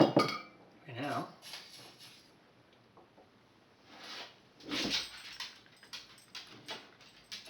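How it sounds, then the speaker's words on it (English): A dog wanders around, giving a short wavering whimper among scattered clinks and light rattles, with soft shuffling in between, fairly quiet overall. "The dog is wandering around, not knowing what to do."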